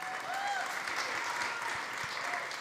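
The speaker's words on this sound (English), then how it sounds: "Please give him a round of applause." Steady applause from an audience honoring a filmmaker at a food and organics event, a dense even patter of clapping filling the room for a few seconds with a few faint whistles or voices mixed in.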